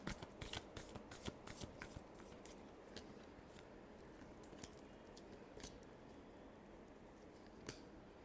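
Tarot cards are shuffled close by in a quick run of crisp riffling flicks, then slow to a few sparse taps and slides.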